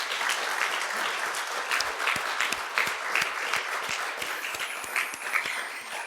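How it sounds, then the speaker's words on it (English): An audience applauds steadily, a dense wash of clapping hands sustained throughout at moderate loudness. "Please give them a nice round of applause"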